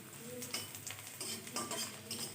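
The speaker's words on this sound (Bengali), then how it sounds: "পেঁয়াজটা হালকা ভাজা হয়েছে এখন আমি দিয়ে দিচ্ছি একটু করে গোটা জিরে" Onions frying with whole cumin seeds crackle and sizzle quietly in a pan, with rhythmic scraping and stirring strokes and light utensil clinks.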